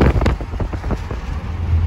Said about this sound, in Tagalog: Grabe ang hangin. Ang lamig.